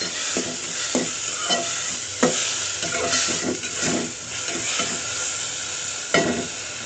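Tomatoes with turmeric powder sizzle and fry in a pan for rasam, a steady hiss broken by repeated scraping strokes of a spoon stirring through the mix.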